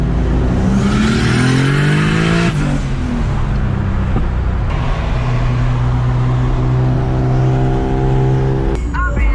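A turbocharged BMW E30 with an M52 engine making 515 wheel horsepower pulls hard and loud through the gears, its rising engine note breaking at a shift before climbing again from inside the car.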